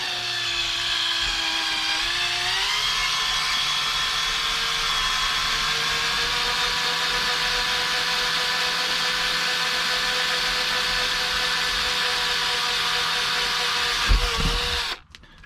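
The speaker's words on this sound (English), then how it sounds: "Gonna run a very, very small drill bit just to make a pilot hole right here" A small power drill with a very small bit whines at a steady high pitch for about fourteen seconds, drilling a pilot hole for a shower latch retainer in a 2015 Tab Max-S trailer, dips briefly in tone early on, then stops abruptly.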